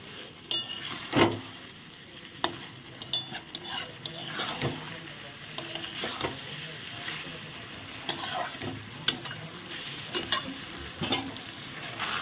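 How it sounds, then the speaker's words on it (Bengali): Bottle gourd stalks are stirred into spices in a pan, with a soft background sizzle broken by repeated sharp scrapes and clinks of a spatula against the metal, close and irregular. "এখন আমি আরেকটু কষিয়ে ডোগাগুলো দিয়ে দেব।"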